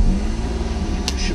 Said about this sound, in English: Now I want to start the car.